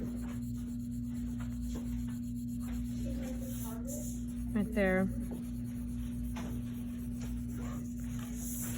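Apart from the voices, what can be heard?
pencil shading on paper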